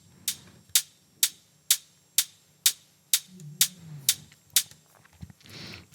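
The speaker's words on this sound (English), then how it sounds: "I'm actually layering this open hi-hat with one more sound." Layered open hi-hat samples with reverb in Ableton, about ten crisp, airy hits in a steady rhythm, each decaying into a short reverb tail, with a low tonal body underneath.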